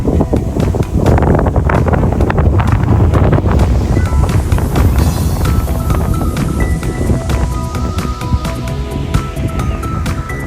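Wind buffets the microphone outdoors in an English village, a loud continuous roar with rushing gusts that swell and ease for the whole stretch, with no voices.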